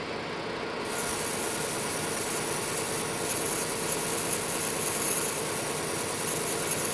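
Brass gear being bored out on a lathe: a steady mechanical whir with a thin high-pitched whine that comes in after the first second and holds, continuous and moderately quiet with no talking.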